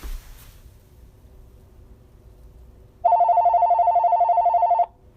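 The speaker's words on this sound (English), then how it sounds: "The phone is ringing." A telephone rings once with an electronic ringtone, a bright pulsing tone lasting nearly two seconds after a quiet stretch of low room noise.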